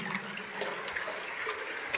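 Water streams steadily through Patal Bhuvaneshwar cave, a soft continuous rushing that stays even and fairly faint throughout.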